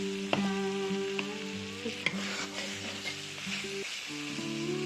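Meat sautéed with local garlic in a pan, frying as a steady sizzle with a few sharp utensil clinks and scrapes over the top, close and moderately loud, no voices.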